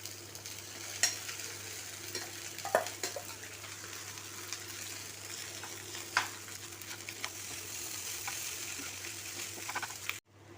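Egg fried rice being stir-fried in a pan, a soft, steady sizzle with occasional scraping clicks of the spatula as it is mixed, continuing alone until a sudden stop at the end.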